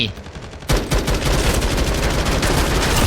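Rapid automatic gunfire from the mobile FPS game Matr1x FIRE, a dense sustained burst that erupts after a brief quieter lead-in and stays loud to the end, with faint voice chatter underneath.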